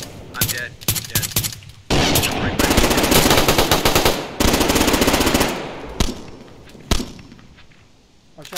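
Video game gunfire with bursts of rapid machine-gun fire and single shots, loud and close, separated by short gaps, with voices faintly underneath.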